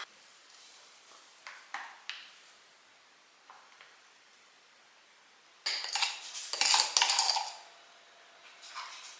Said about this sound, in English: The girls are eating in the background.